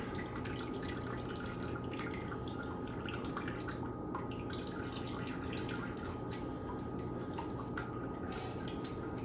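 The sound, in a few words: grain bag dripping as liquid drains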